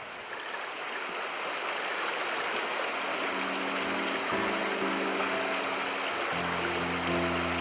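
Clear, oxygen-rich headwater of the São Francisco River rushes steadily over rocky, gravelly rapids, a continuous broadband wash with a low hum underneath.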